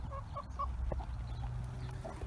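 Hens kept in a run on an allotment in April give soft, scattered clucks, faint and somewhat distant over a low outdoor rumble.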